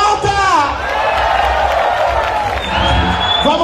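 Studio audience at a drag show on a TV set cheering, whooping and clapping, a loud continuous crowd swell with a voice calling out over it.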